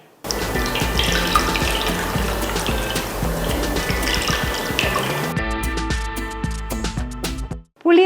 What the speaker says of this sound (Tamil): எடுத்து வச்சுருக்கிற புளியை கழுவிட்டு நம்ம ஊற வச்சுருக்கோம் இதை வந்து நல்லா கரைச்சிட்டு வடித்து எடுத்துக்கலாம்